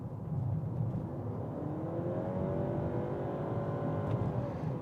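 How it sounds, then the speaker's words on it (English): A 2020 Honda CR-V Hybrid's gas engine drones steadily under full throttle, a buzzy, rising hum with a slight whine that carries without pause for several seconds at moderate loudness. "you'll hear the gas engine and it's really only when you like super put your foot to the floor"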